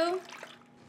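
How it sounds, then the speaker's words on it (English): Tap water runs into a cooking pot being filled for a kosher short rib stew, a steady pouring rush that is loudest at the start and then eases off over about a second, with no talking. "I'm gonna fill this up with some water first. So water for my stew."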